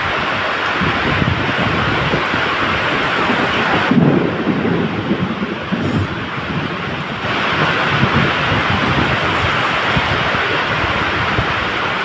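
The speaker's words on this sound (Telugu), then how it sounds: "ఎంత భారీ లెవెల్లో కురుస్తుందో చూడండి వర్షం" Dense, roaring downpour of heavy rain with thunder near a railway line, filling the air continuously with a deep rumbling undertone, loud and close throughout.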